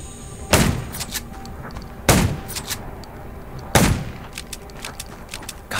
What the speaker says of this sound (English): Gunshots will attract more.